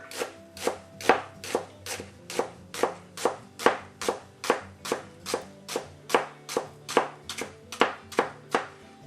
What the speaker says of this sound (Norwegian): Skjær igjen i tynne skiver, uten å skjære helt igjennom, så den blir hengende fast i seg selv.